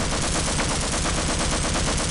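Rapid, continuous SMG fire from the Half-Life game, a dense unbroken stream of closely spaced shots at steady loudness with no talk over it.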